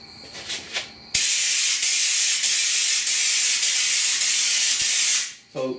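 A spray gun applies Lizard Skin spray-on insulation to the doors of a 1969 Chevrolet C10, giving a loud, steady hiss for about four seconds after a few short bursts, then cutting off.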